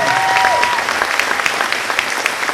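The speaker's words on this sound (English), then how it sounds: "Round of applause again for Mrs. Kerr." Steady, dense applause from a large audience at a school winter band concert fills the room, with a few whistles and no pauses.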